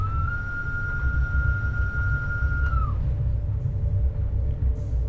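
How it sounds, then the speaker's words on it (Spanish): ABe Allegra railcar horn in Train Sim World 4 sounds one steady tone for about three seconds, then slides off, over a constant low rumble of the running train that continues afterwards. "y tocamos la bocina"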